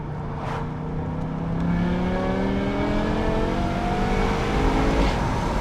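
A 2006 BMW M6 engine revs up and accelerates, heard from outside the car, a loud rising drone that climbs steadily in pitch, with no talking.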